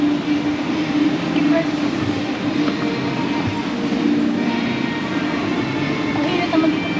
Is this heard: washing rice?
no